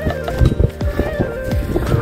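Horses walk along in Dhorpatan, their hooves clip-clopping in an uneven rhythm close by, with soft snorts and people talking in the background.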